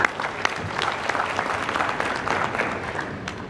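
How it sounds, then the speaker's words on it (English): A conference audience applauding steadily, dense clapping from many hands throughout, moderately loud with no voices standing out. "Let's give them a round of applause for that."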